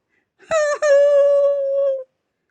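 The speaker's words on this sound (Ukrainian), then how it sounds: "Чуєте? Хтось плаче." A single drawn-out whimpering wail, like a small creature crying in pain over a sore tooth, rising and holding for about a second and a half before stopping, moderately loud with silence around it.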